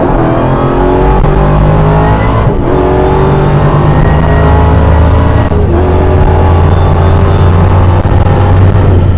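An 1100 horsepower Dodge Demon and an Audi R8 launch side by side in a drag race, engines roaring loud and close as they climb through gears, with brief dips at each shift and a sustained heavy drone.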